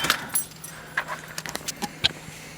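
A bunch of R32 Nissan Skyline car keys jingles in a few quick metallic clinks and rattles, close up, against a low steady hum.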